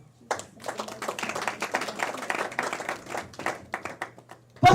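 A church congregation breaks into applause to acclaim the Lord, a full burst of many hands clapping in a reverberant hall that swells and then thins out.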